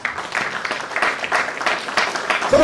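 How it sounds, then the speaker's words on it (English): A round of applause from a live audience at a motivational stage event, a broad steady wash of many hands clapping at moderate volume throughout, ending with a brief tonal sound at the close. "I want you guys to give a round of applause for Demarjay Smith."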